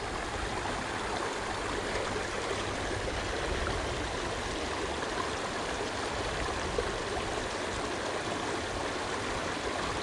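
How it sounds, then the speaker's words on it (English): A shallow stream of moving water on a wild brown trout river babbles and gurgles continuously, a steady close rush with no voices over it. "Bit more confidence now with the bit of moving water."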